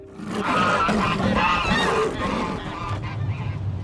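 Several geese honk loudly and excitedly up close, overlapping calls for a few seconds before quieting into softer cackles.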